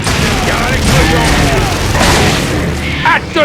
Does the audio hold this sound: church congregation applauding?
no